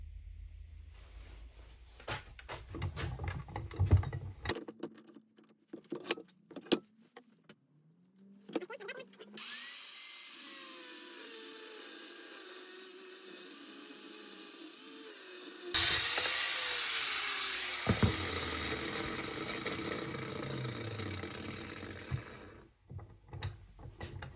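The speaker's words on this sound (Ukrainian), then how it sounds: "Далі нам треба перерізати гайку пополам." A nut being cut in half with a power tool in a home workshop, starting with clatter and handling noise, then a long, loud, steady grinding whine that shifts pitch as it bites, ending in more clanks.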